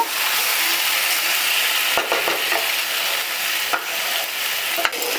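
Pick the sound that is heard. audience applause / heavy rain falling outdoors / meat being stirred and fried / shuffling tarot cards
meat being stirred and fried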